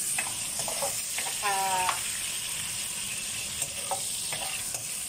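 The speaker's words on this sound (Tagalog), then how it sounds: "Igigisa po natin siya ng luya, bawang at saka sibuyas." Garlic, ginger and onions sauté in a hot pan for a Filipino pinapaitan beef stew, giving a steady close sizzle with stirring scrapes and a brief tonal squeak partway through.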